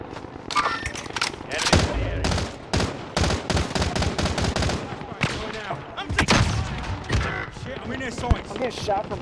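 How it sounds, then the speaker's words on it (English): Heavy gunfire in a video game, repeated loud bursts and single shots over several seconds, mixed with busy game noise and a voice talking. "I'm getting shot from behind"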